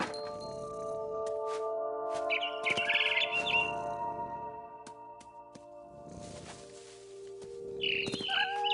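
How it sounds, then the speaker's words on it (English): A barn swallow in the game What Remains of Edith Finch gives a few short, bright chirps, one burst near the middle and another at the end, over a steady ambient tonal backdrop. "I heard chirping outside my window. It was a barn swallow going back to her nest."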